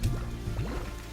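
Water sloshing and splashing in the farming game Slime Rancher, a brief, close, wet burble lasting about a second that stands alone without talk.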